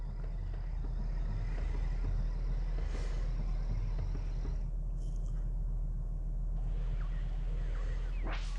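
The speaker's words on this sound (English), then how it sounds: "You can probably hear the humming of my car" A car idles on a cold day with a steady low hum and faint engine rumble continuing throughout, a few soft whooshes passing briefly over it.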